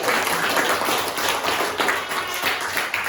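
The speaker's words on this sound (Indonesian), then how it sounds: "tepuk tangan buat kelompok Leci" A classroom of students claps for a fellow student group after its presentation. The clapping is steady and fairly loud, blending into an even wash of hand claps that lasts throughout.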